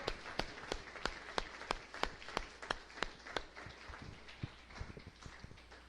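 A church congregation applauds during a sermon, a steady round of sharp claps across the whole stretch, loud at first and thinning toward the end.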